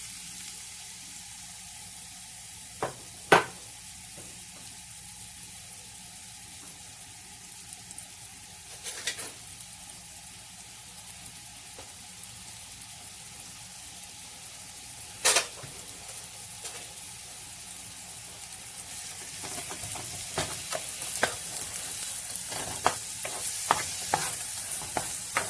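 Crushed onion frying in oil, a quiet steady sizzle that slowly grows busier, broken by a few sharp clacks and scrapes of a spoon against the pan.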